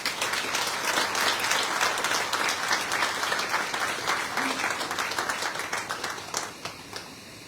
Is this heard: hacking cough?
no